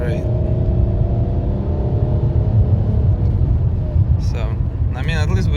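A misfiring car engine struggling to accelerate, heard from inside as a steady loud low rumble throughout, with a voice speaking briefly near the end.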